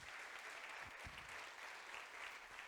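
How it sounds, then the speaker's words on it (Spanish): Congregation applauding in a church during a Spanish-language Sunday sermon, a steady, dense wash of many hands clapping at moderate distance that fills the whole stretch without a break. "¿Por qué no le damos un aplauso al Señor?"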